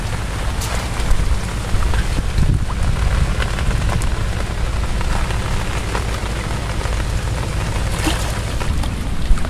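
Steady rain falls over open water during shrimp fishing with bamboo traps, a dense continuous hiss with occasional louder drop ticks, heard alone without voices.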